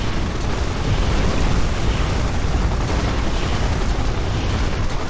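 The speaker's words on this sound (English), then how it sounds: "Blow up this building, too, because it's fun to blow up the fuel depots." Dense, continuous rumbling roar of fuel depot explosions in the Xbox game MechAssault, at high volume, with no distinct gaps between blasts and no voices.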